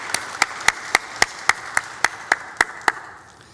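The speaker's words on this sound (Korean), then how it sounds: "샬롬과 함께 영광의 박수 올려드리겠습니다." A church congregation claps in unison, giving about eleven sharp, evenly spaced claps in a steady beat that fade out at the end.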